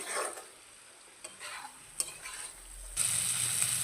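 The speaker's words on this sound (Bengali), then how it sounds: "আলু বেগুন দিয়ে মশলার সাথে ভালো করে 2 মিনিট থেকে 3 মিনিট মিশিয়ে নিতে হবে।" Fried potatoes and eggplant tossed with spices in a pan while cooking a bata fish curry, several quick scraping stirs over a light sizzle that swells louder toward the end, close and without speech.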